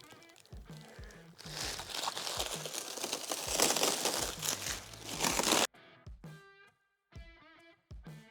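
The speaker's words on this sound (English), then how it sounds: "There's something so satisfying about finishing up a sheet metal job and then peeling all of this plastic off." Protective plastic film crinkles and tears as it is peeled off riveted aluminum sheet metal on an Airstream roof panel, a loud continuous rustle for several seconds followed by a few quieter crackles.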